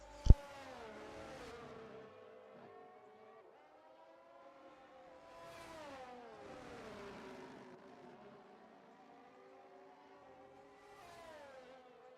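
An F1 car circles Circuit Paul Ricard in the F1 23 game, its engine whining in quiet, rising sweeps that drop sharply at each gear change, after a sharp click at the start.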